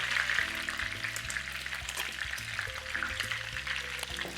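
Pork ribs and mushrooms frying in a pan for braised ribs: a steady close crackling sizzle throughout, under continuous background music with no talk.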